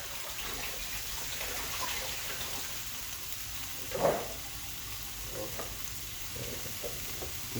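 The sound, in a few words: potatoes simmering in Jamaican lamb stew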